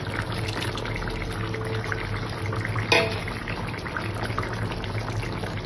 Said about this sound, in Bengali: তো তার সাথে তখন আমি বেগুনটাও ঢেলে দিলাম।